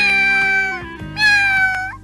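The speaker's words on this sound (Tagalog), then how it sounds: "Aba, may iniwang pusa." A cat meows twice in a cartoon scene, two drawn-out, clear, high-pitched calls close up with a brief pause between them, standing alone without talk.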